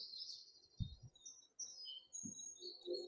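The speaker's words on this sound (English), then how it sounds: "we saw this yellow warbler, which you can actually hear one right now." A yellow warbler sings in a marshland in the Bixby Marshland area, bright high chirping phrases repeating over faint low rumbles and background noise.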